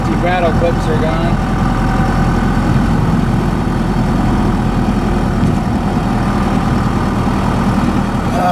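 A Ford F150 pickup fitted with a 4BT Cummins diesel engine runs with a steady, loud, low rumbling drone close by throughout, with a brief voice near the start.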